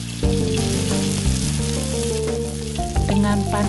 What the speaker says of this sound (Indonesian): Kita goreng hingga matang adonan yang dibentuk bulat-bulat.